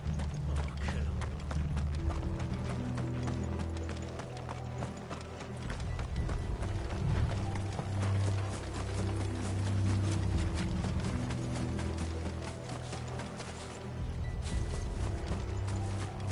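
Horse hooves pound rapidly in a continuous gallop in Final Fantasy XVI, with a low rumbling beneath and brief creaks, loud and unbroken throughout.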